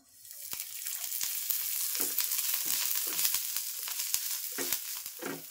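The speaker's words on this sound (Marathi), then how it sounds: "आता मी तेल टाकणार आहे, ते पण थोडंसं." Oil poured into a pan of browned red onions for Malvani chicken sets off a loud, steady sizzle and hiss, with a few soft stirring scrapes and taps and no talking.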